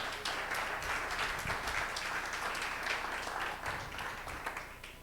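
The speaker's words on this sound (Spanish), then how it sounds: "Denle un aplauso al Señor" A church congregation applauds in praise, dense steady clapping filling the whole stretch at moderate level with a faint murmur of voices beneath.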